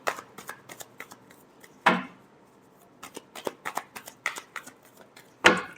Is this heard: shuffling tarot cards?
yes